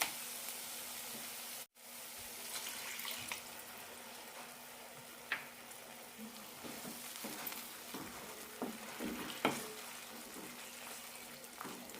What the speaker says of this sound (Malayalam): ഇനി ഇതിലേക്ക് അരക്കപ്പ് വെള്ളമൊഴിച്ച് അഞ്ച് മിനിറ്റ് തിളപ്പിച്ചെടുക്കാം